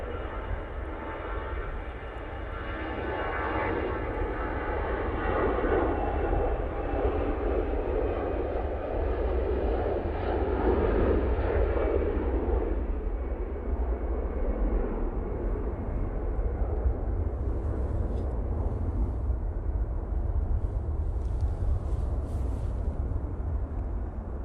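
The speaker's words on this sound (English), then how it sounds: "Easyjet A320 CEO now on the roll" An easyJet Airbus A320ceo roars steadily down the runway and climbs away for Geneva, a broad, loud jet rumble that swells and then slowly fades into the distance.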